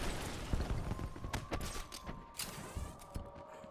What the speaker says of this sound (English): Can you chill with the fireworks?